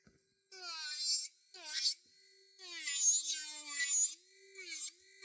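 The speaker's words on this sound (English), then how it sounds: "I'm just going to file a little bit more." Luraco electric nail file works on gel nails, its high whining drill tone rising and dropping in pitch across several short bursts separated by brief pauses, close and clear.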